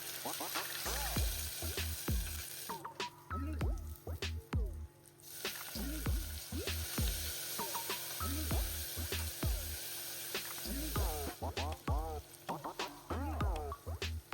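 Mustard seeds, small onions, ginger, tomato, toor dal, cumin and pepper sautéing in sesame oil in a pressure cooker, with a steady close sizzle and scattered pops and stirring scrapes throughout.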